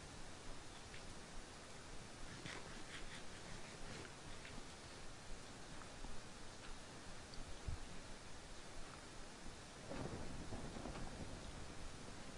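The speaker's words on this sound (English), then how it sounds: "I hear thunder." Thunder rumbles in a Minecraft game amid a steady wash of rain, faint and continuous, with a swell of heavier rumble near the end and no talk.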